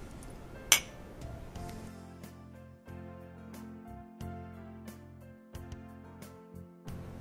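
A sharp glass clink from mulled-wine glasses meeting in a toast rings out near the start, followed by soft, warm background music with no talking.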